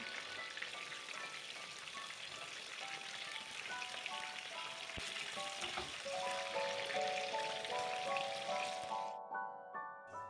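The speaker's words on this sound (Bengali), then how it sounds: "একে একে সম্পূর্ণ বেগুনগুলোকে এই গরম তেলে দিয়ে দিচ্ছি।" Whole eggplants fry in hot oil in a kadai for a tomato-eggplant curry, giving a steady, close hiss and sizzle under melodic background music. The sound drops away abruptly near the end.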